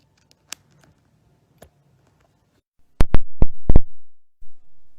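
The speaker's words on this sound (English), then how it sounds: "I'm just going to cut off a 1/2 inch, and that'll give me my 8-inch piece" Cardstock paper being trimmed by half an inch, a few faint clicks followed by a quick cluster of sharp cutting snaps and a short slide, close and loud with no talk.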